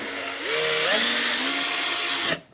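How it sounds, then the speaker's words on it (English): A power drill whines steadily, its pitch rising as it bites through aluminum stringer and sheathing on a Cessna 172, then cuts off abruptly after about two seconds. "We'll want these aligned, and then we can drill through."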